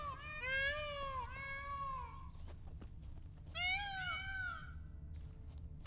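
A flock of birds in The Witcher 3: Blood and Wine calls back and forth with wavering, cat-like meowing cries in two clear bursts over a steady low ambient rumble.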